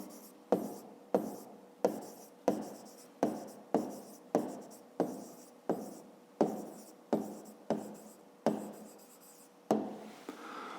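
Pen or chalk writing out a maths answer in a series of about fifteen sharp, evenly spaced strokes, close and crisp against a quiet room, ending in a softer rustle.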